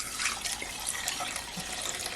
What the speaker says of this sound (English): I am gonna add my coconut milk instead.